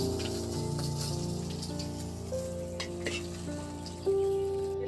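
Panch phoron spices spitting and crackling in hot oil, a close continuous sizzle with scattered pops and faint background tones.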